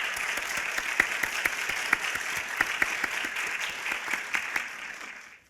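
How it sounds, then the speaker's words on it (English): Audience at a venture competition finale applauding the finalists, sparse and distinct individual claps with sharp peaks, fading out at the end. "Let's give one more round of applause for our 8 amazing ventures."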